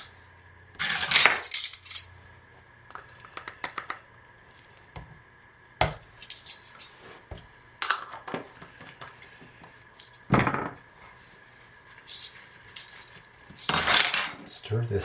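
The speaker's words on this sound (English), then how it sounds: "Stir this in by hand." A spoon or utensil stirs soap colorant by hand in a container for cold process soap, sounding as scattered clinks, taps and scrapes in irregular bursts with quiet pauses between, close up and without talking.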